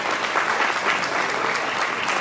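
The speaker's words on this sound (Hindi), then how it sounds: "जोरदार तालियां आ जाएं।" Applause from the audience at a Government of India World Hepatitis Day event fills the room, a loud, steady wash of clapping with no pauses and no talking.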